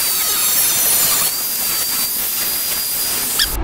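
A steel back saw blade is cut square across its end during hand-tool making, giving a steady, close, hissing cutting noise that runs without a break, with a brief sharper tap near the end.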